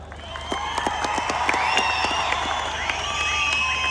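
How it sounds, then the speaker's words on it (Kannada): A large audience of men at a comedy show claps and cheers together, dense fast clapping with scattered whoops filling the hall steadily for several seconds. "ಚಪ್ಪಾಳೆ"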